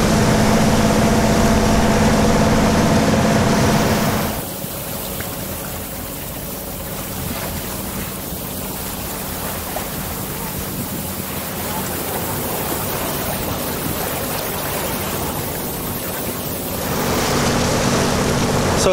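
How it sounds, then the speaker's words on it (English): Sailboat motoring under engine over small waves: a steady engine drone blends with water wash and wind noise, loud at the start and end with a quieter, softer stretch in the middle. "We're just motoring along here, bobbing around in, you know, little or no waves"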